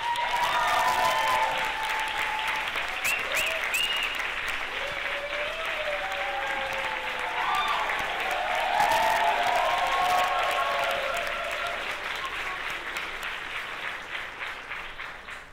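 An audience applauds to welcome a speaker, with steady, full clapping and faint cheers and whistles running throughout before fading slightly at the end.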